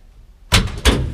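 Power door poppers on a custom 1955 GMC hot rod, two quick solid mechanical thunks about a third of a second apart, close and fairly loud after a near-silent start.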